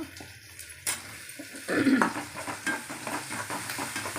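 Tomatoes go into a pan of well-sautéed onions for an intestine curry. A soft sizzle rises as they land, followed by stirring and scraping, fairly quiet and without voices.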